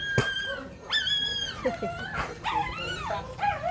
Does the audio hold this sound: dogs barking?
yes